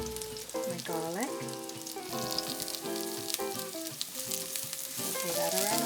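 Garlic and shiitake mushrooms sauté in a hot pan with a steady, close crackling sizzle that runs throughout.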